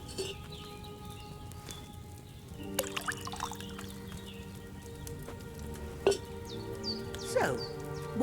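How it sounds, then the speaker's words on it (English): Wine poured into a cauldron in Kingdom Come Deliverance 2, a soft liquid trickle and splash with a few drips, fairly quiet against a faint tonal background hum. "First, you have to pour the right base into the cauldron"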